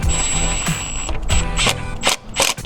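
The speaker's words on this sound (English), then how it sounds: "Then I'm gonna take my screw gun." A cordless screw gun drives a hose clamp tight on an aftermarket charge pipe during a GR Corolla intercooler install, giving a close, loud mechanical ratcheting whir in several short bursts.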